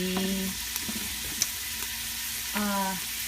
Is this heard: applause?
no